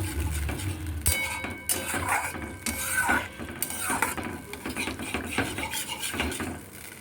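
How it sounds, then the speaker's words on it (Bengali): Chhena paste stirred in a pan over the heat, with steady scraping and clinking of a spoon against the metal, close and continuous with a soft rasping texture throughout. "এবার হচ্ছে আমাকে একটু মিশিয়ে দিতে হবে ভালো করে"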